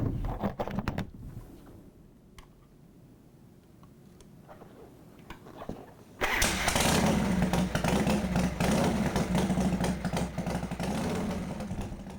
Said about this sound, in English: until you hear the motorcycle start up or even turn over